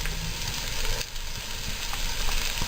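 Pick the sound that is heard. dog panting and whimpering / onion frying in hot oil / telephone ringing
onion frying in hot oil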